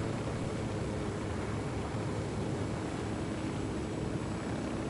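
Helicopter flying in Ghost Recon Wildlands, a steady dense rotor-and-engine roar heard from inside, loud and unbroken without talk.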